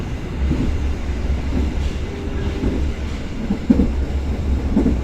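Inside a Pasundan economy-class train with upright seats, running at speed: a steady low rumble with rhythmic wheel clatter and occasional knocks, close and continuous.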